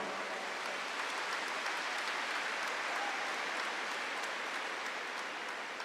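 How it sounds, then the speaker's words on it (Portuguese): Faint, steady applause from a church congregation during a sermon, a diffuse hiss-like wash of many hands heard from a distance and continuing evenly throughout. "Pode aplaudir."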